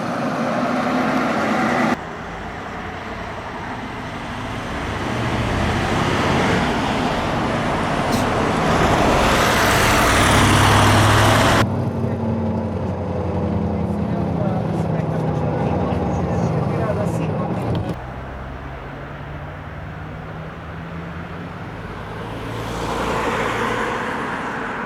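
A TAM 331 A 119 high-floor tourist bus drives along with a steady engine and road rumble that shifts with changing surroundings, while people talk over it throughout.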